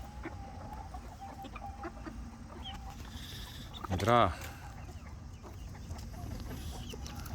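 Chickens, with Brahma chicks nearby, cluck softly amid outdoor background noise in the late afternoon, with one louder burst of clucking midway; a person speaks briefly.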